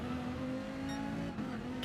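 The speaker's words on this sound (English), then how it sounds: "Slamming on the brakes, you can hear the tyres straining under braking." Gr3 race car engine whine from a video game at Blue Moon Bay Infield A, steady and droning, with a brief higher-pitched squeal of tyres straining under braking partway through.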